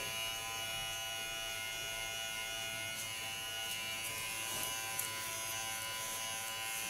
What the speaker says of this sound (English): the nice thing of this clipper is that it goes totally short.